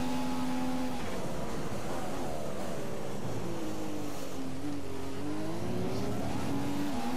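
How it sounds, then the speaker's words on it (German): A Formula 1 car in the F1 2015 racing game, a Ferrari, roars in close with a steady high engine whine that climbs and shifts pitch as it closes in, loud and continuous with no talking. "Jetzt kommt der Kimi angeschossen."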